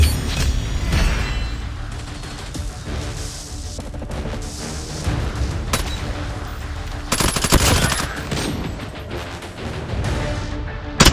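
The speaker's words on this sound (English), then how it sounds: "Sentry gun deployed." Automated sentry gun in a video game firing sustained loud bursts of rapid gunfire, close and continuous, with crashing impacts mixed in.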